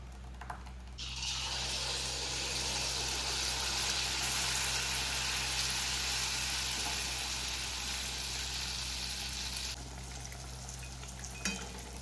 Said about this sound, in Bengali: একটু ঘি অ্যাড করে দেওয়া হলো এই যে তেল এই যে ব্যাটার এবার দেয়া হবে